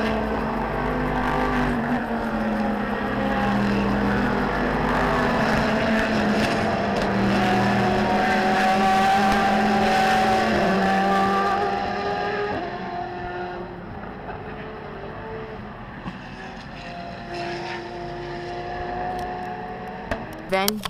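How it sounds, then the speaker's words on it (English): Race cars at Road America, including an SRT Viper GTS-R field in an ALMS event, roar past in a continuous loud stream of engine noise, with several overlapping passes that fade somewhat toward the end. "Cars constantly whip past us as they look to improve their position."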